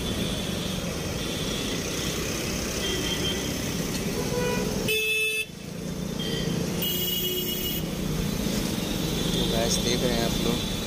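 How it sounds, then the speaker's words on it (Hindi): Busy New Delhi road traffic heard from a motorbike ride, a constant roar of engines with repeated car and bus horn toots, a brief dip midway, and someone talking over it. "दिल्ली की रोड, इतनी ट्रैफिक, इतनी ट्रैफिक"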